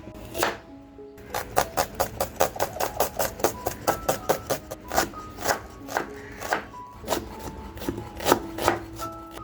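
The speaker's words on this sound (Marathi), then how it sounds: "तर हे 2 कांदे अगदी बारीक कापून घेणार आहे" Two onions are chopped finely with a knife, producing a quick, regular run of crisp knife taps on a board, close and distinct, over a faint steady tonal background.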